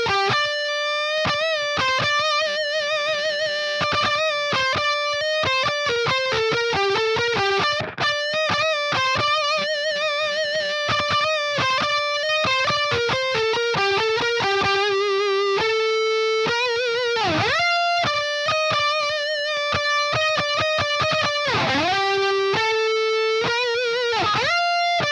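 Dry electric guitar lead through a Bogren Digital amp with delay switched off, loud and continuous, playing fast picked melodic runs with sustained bends, with no talking.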